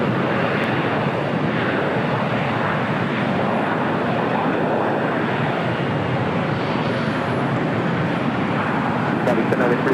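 A Delta airliner jet taking off from runway 25 right at LAX, a loud broad continuous roar that holds steady throughout, with a faint high whine near the end and no voices.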